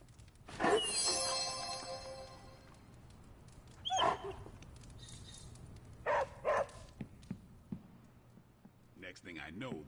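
Charlie the dog in the video game Marvel's Midnight Suns gives several short barks and yips in separate bursts, with a character's voice speaking between them.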